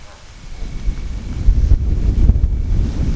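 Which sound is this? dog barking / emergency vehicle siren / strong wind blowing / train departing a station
strong wind blowing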